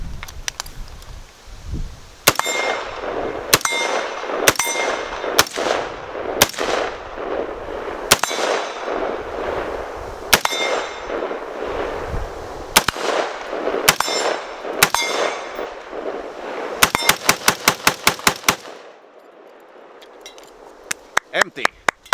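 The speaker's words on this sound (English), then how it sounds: "So I'm gonna shoot some steel targets." Colt M16A1 rifle fired at steel targets: a series of sharp, loud shots with ringing metallic clangs, spaced irregularly, then a fast close cluster of hits near the end before a quieter pause and a few last strikes.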